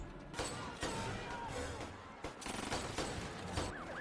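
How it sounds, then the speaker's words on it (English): Bursts of machine gun fire from the James Bond film Skyfall rattle in repeated volleys at moderate volume, punctuated by sharp cracks, with a voice talking over the shooting. "This is a machine gun."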